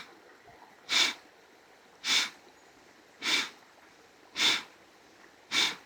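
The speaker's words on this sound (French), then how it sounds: "Tu expires par le nez, si tu peux, fermement" Five firm, evenly spaced nasal exhalations in pranayama yoga breathing, each a short, sharp, close puff of air roughly a second apart, with quiet pauses between.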